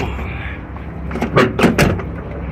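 Doors of a junkyard 1975 Chevrolet Caprice Classic being pushed shut, a few close metallic thuds in quick succession after some shuffling, with a voice murmuring nearby.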